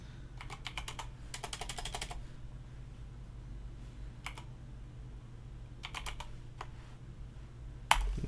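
Bursts of rapid keystrokes on a computer keyboard while writing code, in quiet clusters separated by pauses, close and fairly soft, ending with a sharper tap.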